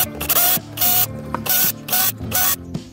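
A power drill tightens a screw in several loud, close bursts of motor whir, each about half a second long and separated by brief gaps.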